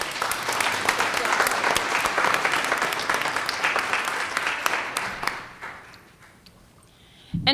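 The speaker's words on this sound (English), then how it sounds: "another round of applause" A school board meeting audience gives a round of applause, a dense wash of clapping that holds steady for about five seconds before thinning out and fading, with a brief voice at the very end.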